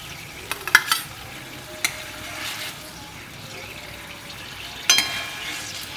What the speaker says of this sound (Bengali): এবার যে তেলটা তুলে রেখেছিলাম সেই তেলটা একটু সামান্য উপরে দিয়ে নেব